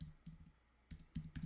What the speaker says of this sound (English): I can't see what I'm typing here.